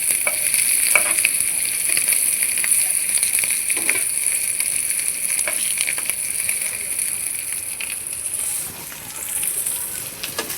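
Mandeli fish fry in oil on a flat pan with a steady, bright sizzle that hisses continuously, with occasional clinks and small bumps from turning the fish.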